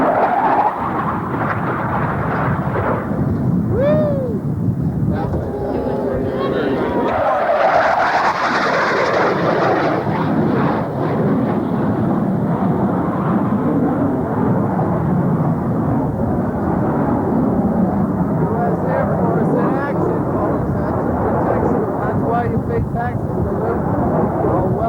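An A-4 Skyhawk jet flies past at the 1993 Quonset Point air show, a loud roaring engine rush that swells and fades over many seconds, with people talking nearby.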